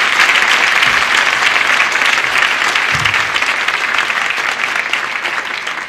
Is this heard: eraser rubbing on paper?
no